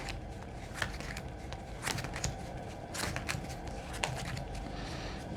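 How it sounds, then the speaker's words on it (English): Quiet card shuffling, a soft continuous riffle with several sharper flicks and snaps, close by, with no talking. "gonna give it a nice little shuffle"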